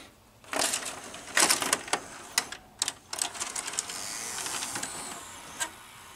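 Mitsubishi VCR cassette mechanism ejecting, heard as a quick series of faint mechanical clicks, clunks and whirring motor bursts, close up in a quiet room.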